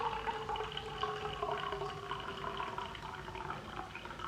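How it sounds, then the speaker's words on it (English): Hot water pouring from a Klean Kanteen TKPro insulated thermos through its lid into a cup, a steady close liquid stream and trickle lasting the whole moment without talk. "you can pour through the lid, which is quite nice"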